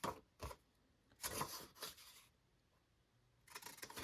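Paper pocket flaps for a junk journal being trimmed, giving a few short dry cutting and scraping bursts spread apart, close and fairly quiet, with a longer pause before a final rasp.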